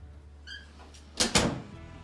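A house door swings shut with two close thuds in quick succession, preceded by a faint creak or squeak, indoors during a spring house tour.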